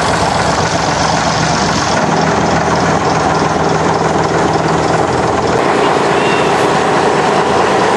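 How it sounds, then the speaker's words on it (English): A loud, steady engine drone of a long-tail boat on a river in Thailand runs throughout with a constant low hum and broadband roar, close by, with some background voices. "Here's one of the long-tail boats coming up."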